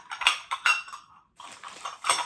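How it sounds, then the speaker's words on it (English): A small stack of three Amari ceramic dishes, olive green in color, clinking together at close range in a series of bright, irregular knocks and chinks, with a short pause partway through. "I have a little stack of 3 of these Amari little dishes."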